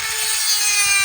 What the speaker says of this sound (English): Let's correct our gullet with this grinder here pretty quick.